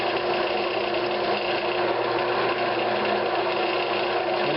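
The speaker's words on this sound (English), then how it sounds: "it should bore a hole right down the middle" Drill bit boring a hole through spalted oak spun on a wood lathe, a constant mechanical hum with a steady droning tone and no pauses.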